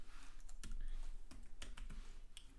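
Code being typed on a computer keyboard, a steady run of quick, close key clicks with a few sharper strokes and no talking.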